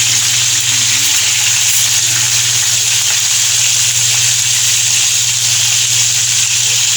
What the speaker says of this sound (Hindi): अब हम दूसरी साइड फ्राई करेंगे।